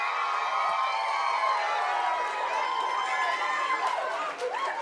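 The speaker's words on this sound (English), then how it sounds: "Let's have a big round of applause for all the performers tonight." An audience claps and cheers for the performers after a Beauty and the Beast play, a dense, steady wash of applause with scattered shouts and chatter lasting throughout.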